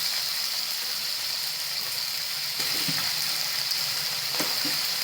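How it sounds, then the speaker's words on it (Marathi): Ivy gourd (tondli) pieces frying in oil with turmeric and salt give a steady, close sizzle throughout, with a few soft clinks and scrapes of stirring and no voices. "आता हे चांगले परतून घ्यायचे तेलामध्ये आलटून पलटून असे चांगले परतून घ्यायचे"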